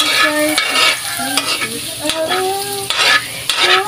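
Garlic sizzling in a hot pan while a utensil stirs and scrapes it in repeated strokes, close and clear, with metallic clinks between bursts of frying.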